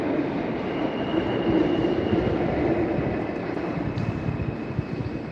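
A train rolls past on a New York City street walk, a steady loud rumble of wheels and cars with faint rail squeal, continuous and close throughout with no talking.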